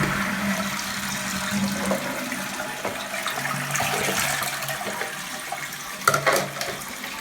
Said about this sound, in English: a slight trickle here at the side of the pan, and it's occasionally refilling